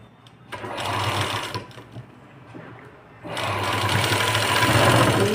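Electric sewing machine stitching a boat neck designer blouse, its rapid needle clatter running in two bursts with a short pause between, close and fairly loud.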